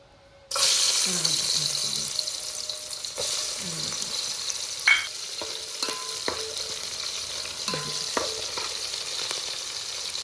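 Ghee and oil heating in a pot, then onions frying for Muslim-style khichdi: a loud, steady sizzle begins abruptly and continues throughout, with occasional stirring clinks and a faint voice in the background.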